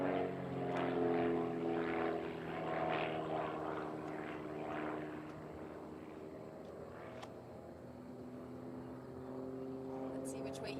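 A propeller aerobatic airplane flies a sequence at the U.S. National Aerobatic Championships, its engine droning with a strong, wavering tone that fades slightly as it moves away. A voice talks over the sound.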